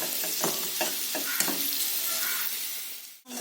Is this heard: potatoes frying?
yes